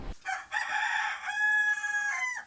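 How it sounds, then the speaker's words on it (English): A Bigawi rooster, an indigenous chicken variety, gives a single loud, close crow with a sharp onset and a long, harmonic, drawn-out call that tapers off at the end. "we started working on raising an indigenous variety of chickens called Bigawi"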